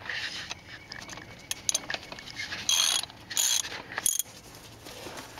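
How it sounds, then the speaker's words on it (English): A 24 mm wrench turning a spin-on fuel filter on a Mercedes diesel, giving close ratcheting clicks and short metallic bursts in uneven spurts, with brief pauses between turns. "So you need a 24-millimeter wrench for that."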